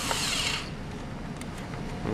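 A handheld power drill drives screws into a homemade battle bot part, a short whirring burst at the start that cuts off and leaves quiet room noise.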